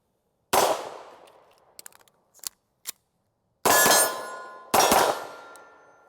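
A Kimber 2K11 Pro pistol fires three sharp, loud shots at steel targets, each ringing with a bright metallic clang and trailing decay, with a few small clicks and knocks between the first and second shots.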